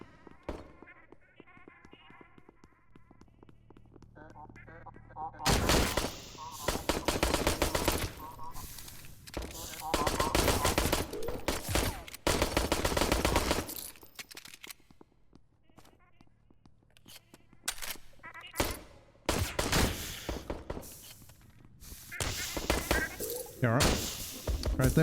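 Suppressed gunfire in a shooter game comes in dense, rapid bursts that alternate with quieter stretches, loud and close, with a voice talking between the volleys.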